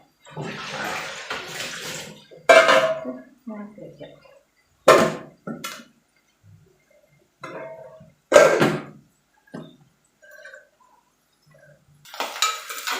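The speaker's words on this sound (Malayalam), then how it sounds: "താഴത്തെ കഞ്ഞിവെള്ളം നമുക്ക് കളയാം" Starch water is poured off a pot of cooked rice in several short, loud gushes separated by pauses, along with clatters of the pot and lid and brief talk between the pours.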